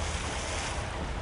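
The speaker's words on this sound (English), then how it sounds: "The splashings make me all nervous. So much splashing." Splashing through water in Return to Castle Wolfenstein, a steady broadband wash of churning water that fills the short moment evenly and at constant loudness, with no voices over it.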